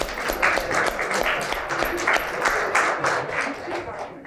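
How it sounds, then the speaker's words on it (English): Sustained applause from a group after a mock trial, steady clapping throughout with a dense, even texture. "Applause for everyone."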